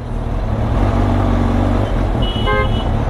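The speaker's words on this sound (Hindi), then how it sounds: "ये कुछ बड़ा कंटेनर है यहाँ पे, उसके वजह से इतना ट्रैफिक है।" Heavy road traffic backed up behind a large container truck, with a steady loud engine rumble and a short burst of car horn honking near the end, heard up close.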